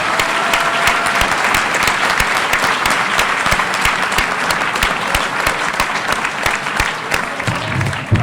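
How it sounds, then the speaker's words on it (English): A large audience at a political debate claps steadily and loudly throughout, a dense continuous wash of applause without pauses. "we should give one more round of applause to our terrific sponsors"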